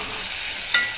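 Onion and half a cut onion's worth of curry leaves fry in a pan over medium gas, a steady close broadband sizzle with a brief stirring scrape near the end.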